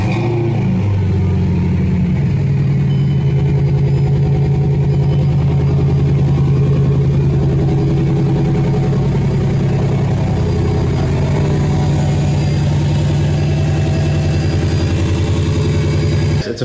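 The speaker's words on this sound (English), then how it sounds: "let me go ahead and start the car" A Mercedes engine starts and settles into a steady idle after a repair, a low continuous hum that holds evenly and close by for the whole stretch, with no one speaking.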